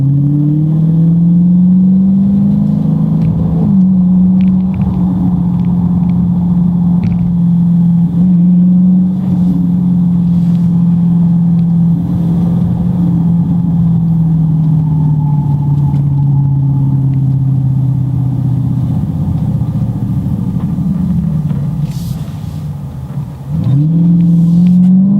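A car drives spiritedly on Atturo AZ850 performance tires, its engine droning loud and steady from inside the cabin, with the pitch rising and falling as it accelerates and eases off. The tire and road rumble runs underneath and no voices are heard.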